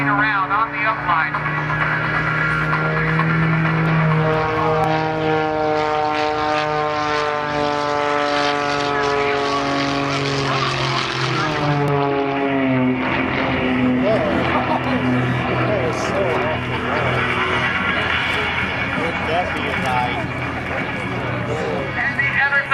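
Propeller aerobatic plane at an airshow roars continuously for over twenty seconds, its engine pitch rising and falling through snap and torque-roll maneuvers, loud and close, with a commentator talking over it throughout.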